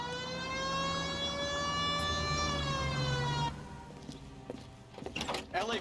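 Police car siren in the L.A. Noire video game, a rising and falling wail that plays loudly for about three and a half seconds, then cuts off into scattered noise and game sounds.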